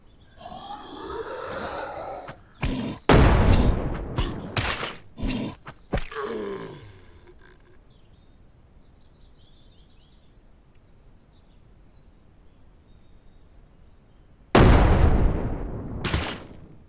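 Grenade explosions and gunfire in the zombie survival game Surroundead, with loud close blasts and grunting zombies early, a quiet stretch, then another pair of heavy explosive bursts near the end.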